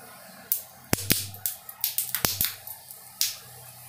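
Purple-flowered plant seed pods burst in water with a scattered series of sharp cracks and pops, a few loud snaps among softer crackles over several seconds.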